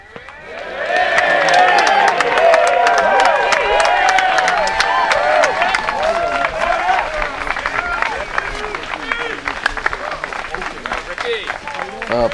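At a disc golf tournament, a crowd bursts into loud clapping and cheering, rising quickly and holding strong for several seconds before slowly thinning out, with shouts and chatter mixed in.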